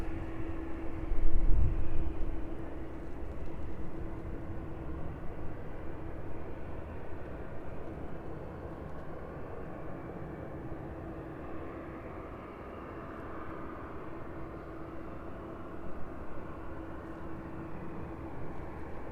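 A Ryanair jet bound for Valencia climbs away from East Midlands Airport, its engines a steady, distant broadband roar with a faint hum that slowly fades and swells.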